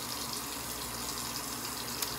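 Water runs steadily from a tap at a bathroom sink onto a puck of shaving soap, a constant, even broadband hiss with no talk over it.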